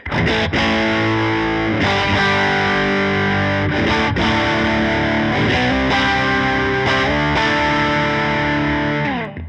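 A maple neck Stratocaster plays through a Tone City Double Durple pedal, a continuous, loud, driven electric guitar tone with strummed chords and rhythmic accents alone, saturated and thick throughout.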